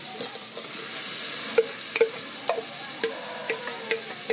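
Chopped onion and other food fry quietly in a pan while a utensil stirs, with a row of sharp taps and scrapes about every half second over a low, steady sizzle, close and without speech.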